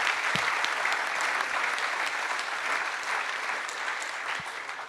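Dense, sustained applause from an audience at a trade skills olympiad awards evening, a full room clapping steadily and loudly, tapering slightly toward the end.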